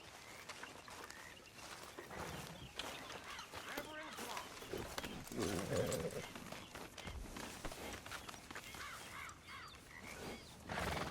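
Steady clip-clop of horse hooves at a trot in Red Dead Redemption 2, mid-distance, mixed with game ambience and bird caws, continuing for several seconds.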